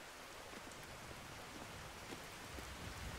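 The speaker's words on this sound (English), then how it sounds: "And now it's raining." Rain falls in the Skyrim video game as steady, soft, broadband hiss, faint and continuous with scattered drop-like ticks and no voices.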